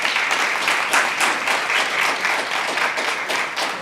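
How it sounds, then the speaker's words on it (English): An audience claps steadily for a school district board of trustees at its meeting, a dense, even round of applause lasting a few seconds with no talk over it. "Let's give another big round of applause for our wonderful Board of Trustees."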